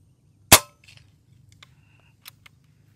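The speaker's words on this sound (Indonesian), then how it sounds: "Oke, tembakan pertama." A single sharp, loud shot from a Winchester lever-action PCP air rifle cracks out, followed by a few faint metallic ticks and clicks over a low steady hum.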